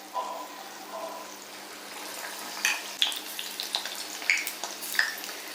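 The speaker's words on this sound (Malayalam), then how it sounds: "ഈ എണ്ണയിൽ സ്പൂൺ വെച്ച് തന്നെ ഇടുന്നതാണ് നല്ലത്." Spoonfuls of potato snack batter fry in hot oil: a low bubbling gives way to crackling, popping sizzles that grow busier toward the end, heard up close.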